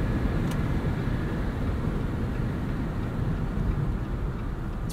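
Interior of a 2021 Jeep Wrangler Rubicon 4xe plug-in hybrid with a 2-liter four-cylinder, driving at speed: steady loud broadband rumble of tire, road and wind noise, continuous without any talking.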